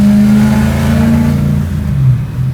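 Loud, close revving from a supercharged V8 in a swapped BMW E30, the engine holding a rough low drone before easing off and climbing again.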